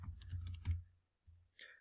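Fingers tap quickly on a computer keyboard, entering a search term in a browser, in a close burst of clicks followed by a pause and a couple of isolated keystrokes.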